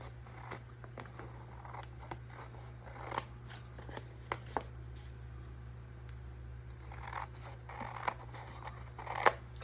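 Small paper craft pieces being trimmed with scissors, quiet scattered snips and a few crisp cuts over a faint steady room hum, with no talk.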